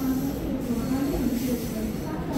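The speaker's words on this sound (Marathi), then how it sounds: "आणि बघता बघता माझी डोंबिवली ट्रेन आली आहे" A Dombivli local train pulls into a station with a steady, loud rumble and hiss of wheels and carriages, with faint voices on the platform.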